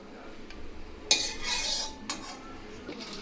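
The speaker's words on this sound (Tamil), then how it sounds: "இப்போ வறுத்து நம்ம தனியாக ஒரு பாத்திரத்துக்கு நம்ம மாற்றிக்கலாம்." Ghee-roasted cashews and raisins are moved out of a kadai into a separate vessel, a spoon giving one longer metallic scrape followed by a few lighter clinks, close and without talk.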